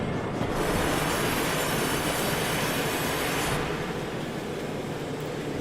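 Steam locomotives in Derail Valley VR give off a dense, loud rushing hiss with rumbling mechanical noise, the bright hiss cutting off partway through while a lower rumble continues.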